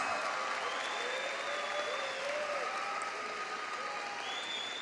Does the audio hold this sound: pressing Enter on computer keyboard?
no